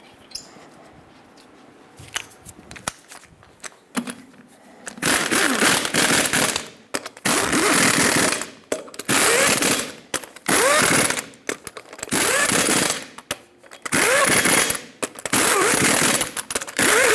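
A power tool tightens the eight lug nuts on a Ford E-350 Super Duty wheel in loud, rapid hammering bursts, each lasting about a second, with short pauses between them and quieter clicks before the first burst.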